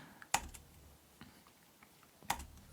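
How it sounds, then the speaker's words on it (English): Two isolated keystrokes on a computer keyboard, spaced about two seconds apart, quiet and crisp against a faint room hush. "so I'm just typing in and deleting it."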